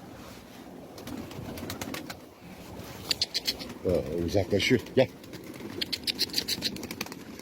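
Soft pigeon cooing in short bursts, fairly close, with a man calling out intermittently over the birds.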